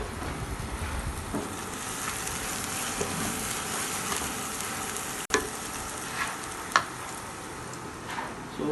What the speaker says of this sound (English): while sauteing, I'm getting the aromas of the olive oil and garlic and onion and chili